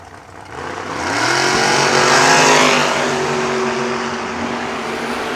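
A drag race car roars as it accelerates hard down the strip, its loud engine tone rising and then holding steady, with roadster engine noise blending into a broad, distant roar.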